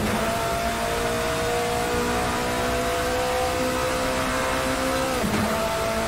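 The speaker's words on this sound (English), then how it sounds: "And the power coming out of that twin-turbo V8 engine" A twin-turbo V8 classic endurance race car in Assetto Corsa on the Monza circuit drones with a steady, sustained engine tone at high speed, then briefly dips as it shifts near the end.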